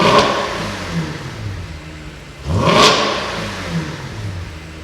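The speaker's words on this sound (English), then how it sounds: "Can you rev it a bit?" A car engine idles in a repair shop, then is revved once. The pitch climbs to a loud peak and falls back to a throaty idle, close by with no talk over it.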